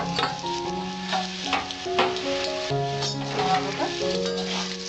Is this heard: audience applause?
no